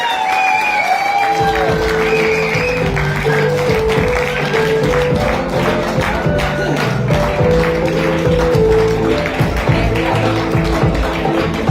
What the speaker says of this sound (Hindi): जोरदार तालियां हिमांशु के लिए